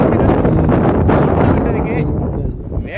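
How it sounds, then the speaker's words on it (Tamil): Strong wind gusts at an outdoor cricket match, Kashmir versus Maharashtra, roaring as steady broadband buffeting against the microphone for the whole stretch, loud and continuous. "ரொம்ப அதிகமான வேகத்தில் காற்று அடிச்சிட்டு இருக்கு"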